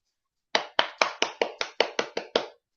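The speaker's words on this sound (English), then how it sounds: "Golf clap." Nine or so soft, evenly spaced claps close by, a polite golf clap with no other sound around it.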